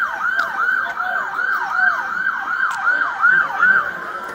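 An ambulance siren wailing in a rapid repeating up-and-down cycle, loud and steady at a street scene during a police incident, with only faint traffic noise beneath.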